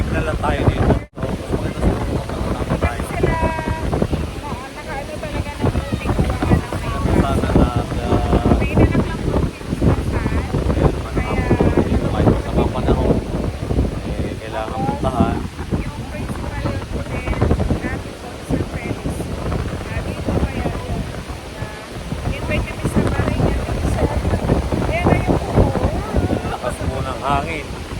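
Strong, steady wind buffets the microphone over rushing waves at sea off Boracay in bad weather, with people talking throughout.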